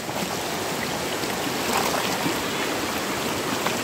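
River water rushing steadily and loudly in a continuous broadband wash, with no pause across the clip and no voices.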